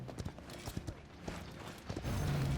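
A horse in the video game Paladins gallops in quick, irregular clip-clop hoofbeats, close and moderately loud, ending in a louder blurred burst, with no talking.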